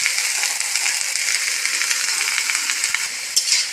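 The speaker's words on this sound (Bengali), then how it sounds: "সবজিটার সঙ্গে মশলাটাকে 2 মিনিট ভালো করে নেড়ে মিশিয়ে নিচ্ছি" Spiced young pumpkin stems and leaves being stirred in a hot pan, a steady close sizzle and frying hiss with soft scraping and light clinks from the stirring, continuous throughout.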